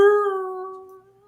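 A voice imitates a kobold howling far down a tunnel, one long sustained tonal howl that slowly falls and fades, loud and close with no other sound.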